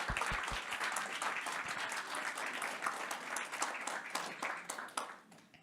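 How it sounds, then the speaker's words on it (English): An audience at a senior living community applauds a retiring woman, steady scattered clapping from many hands that holds for several seconds and then tapers off, with a few low thumps at the start. "let's have a round of applause"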